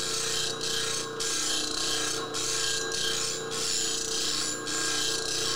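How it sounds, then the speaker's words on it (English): A bench grinding wheel sharpening a tool in a woodworking shop gives a steady, continuous abrasive hiss with rhythmic dips as the blade is passed back and forth across the wheel, close and fairly loud. "Grinding wheel, I should say."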